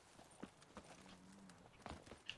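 Roach the horse's hooves clopping in The Witcher 3, a quiet run of distinct hoofbeats in a loose rhythm over a low game background, with a brief tonal sound midway.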